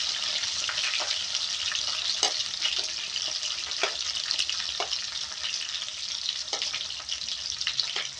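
Onion sautéing in a pan for ginisang munggo sa gata, a steady close sizzle and frying hiss with a few sharp stirring clicks, no talk.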